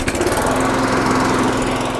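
A petrol lawn mower's engine runs steadily and loud right after a pull-cord start, a continuous close drone with no voices over it.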